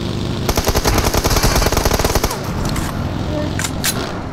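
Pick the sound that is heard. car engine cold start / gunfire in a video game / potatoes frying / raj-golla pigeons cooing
gunfire in a video game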